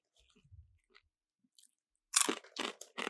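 Crunchy spicy corn nuts are bitten and chewed close to the mic, a few loud crisp crunches after a near-silent pause, with no talking.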